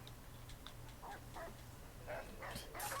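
A puppy gives several faint, brief yips and barks in the background of a quiet room, spaced irregularly over a few seconds.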